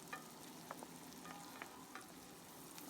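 Chopped onions sauté in a pan, heard as a faint, even sizzle with a few soft stirring clicks and taps at irregular intervals, without any voices.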